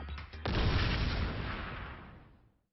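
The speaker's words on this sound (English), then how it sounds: "Monosuke's the one that's gonna get blown up!" An explosion in the video game Danganronpa V3: a few quick crackling pops lead into a loud, sustained booming blast that rumbles and slowly fades out over about two seconds.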